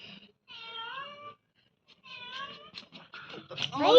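A cat gives two drawn-out meows with a pause between, followed by louder, harsher yowling at the end.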